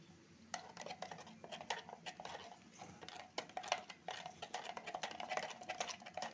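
A spoon stirs baking soda into a little water inside a steel cup, giving quick, light metallic clinks and scrapes in an irregular rhythm, close by and fairly quiet.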